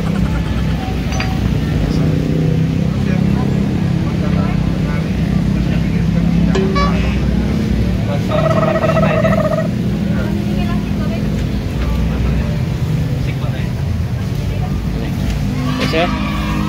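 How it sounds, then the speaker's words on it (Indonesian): Busy night road traffic on Jalan Taman Kenton: a steady, loud rumble of passing cars and motorbikes fills the whole stretch, with a few brief horn-like tones partway through and someone talking over the street noise. "Malam hari ini kita ya cukup ramai lagi lalu lintas ya."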